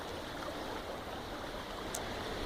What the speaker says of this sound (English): It's like a big creek now instead of a little trickling creek.